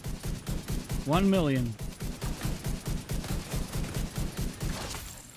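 Rapid video game gunfire from a strikers match, a steady stream of repeated shots running the whole time beneath an excited voice talking over it.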